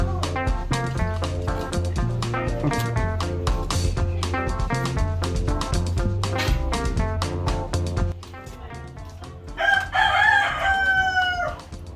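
A rooster and other chickens make loud, close clucking and repeated calls, ending with a clear crow near the end.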